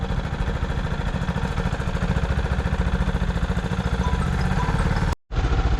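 A boat engine runs on the Alleppey backwaters with a loud, close, steady chugging throb and rapid regular pulses, cut off by a brief dropout near the end before resuming.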